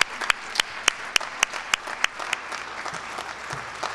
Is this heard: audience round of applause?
yes